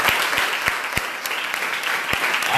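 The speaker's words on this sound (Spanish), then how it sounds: "Denle un fuerte aplauso al Señor en esta hora" A congregation at a religious service claps steadily, a dense wash of applause with occasional sharper individual claps standing out, continuous throughout.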